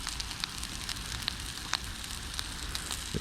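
Breakfast sizzles steadily in a collapsible nonstick camping pan, a soft continuous frying hiss with occasional small pops and crackles, heard alone and fairly quiet.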